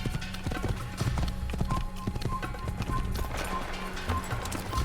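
Steady clip-clop of horse hooves at a quick, rhythmic pace in the video game Assassin's Creed, fairly loud and close, with no one speaking.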